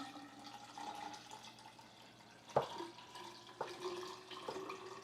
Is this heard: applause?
no